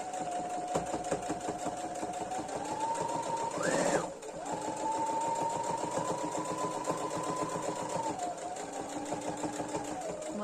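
A sewing machine hums steadily as it stitches fabric for a mask pouch, pausing briefly around the middle before running on at an even pace, close and alone.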